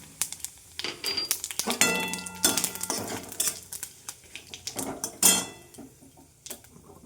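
Dried chili, bay leaf, black cumin and whole cumin seeds hit hot oil in a Bengali kitchen, with a light sizzle under loud clinks and scrapes of a metal spoon against the pan.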